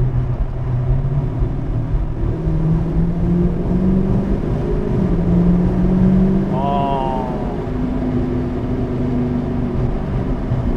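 Engine and exhaust of a Dodge Challenger R/T Plus Shaker after a paddle-shift downshift, a steady low rumble with rising and falling pitch throughout, heard from inside the car with a brief higher tone midway.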